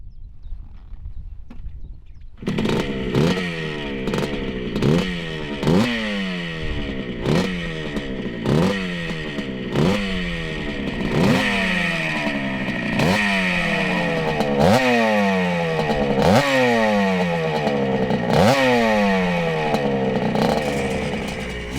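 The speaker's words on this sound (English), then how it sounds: "it's finally time to hit the track on board the 1977 Honda CR125" A 1977 Honda CR125 two-stroke motorcycle riding on a track, revving hard and repeatedly through gears with rising and falling engine pitch, loud and close, after a short quiet start.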